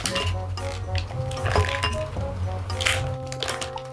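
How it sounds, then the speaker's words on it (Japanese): A large batch of small Chocolate Jiro chocolates poured onto a big plate, giving a steady, close clatter of light pieces clinking and tumbling against the dish. "大皿にガンガン出していきたいと思います"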